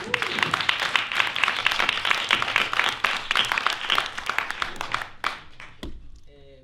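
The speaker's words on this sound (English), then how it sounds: "So they deserve a big round of applause" Audience applause for Cuban dancers at an arts performance, a dense sustained burst of many hands clapping for about five seconds before it thins out and stops.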